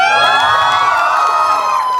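A wedding sangeet audience cheers, whoops and shouts loudly and continuously, a dense, excited crowd roar with high voices rising over it.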